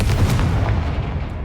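Confringo blasting spell explosion in a video game, a loud close booming burst with a heavy low rumble that decays over a second.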